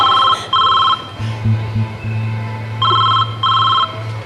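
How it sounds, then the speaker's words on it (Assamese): A telephone rings in repeated electronic bursts, two short trills, a pause, then two more, during a scene in an Assamese stage drama, with low steady hum and music-like tones beneath. "আপোনাৰ ফোনটো বাজিছে নেকি"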